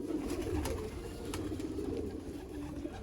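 Costly teddy pigeons coo steadily and fairly close, a continuous low throaty murmuring that carries on through the whole stretch with no voices over it.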